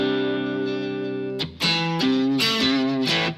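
Electric guitar played through a Synergy Morgan AC amp model with reverb: a sustained chord rings out, then several sharp strummed chords follow with reverb tails, loud and alone.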